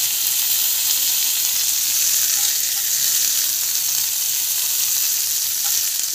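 Mustard seeds, cumin, onion, green chili, coriander and chana dal sauté in hot oil for upma, a loud, steady close-up sizzle and crackle that continues without pause, no talking.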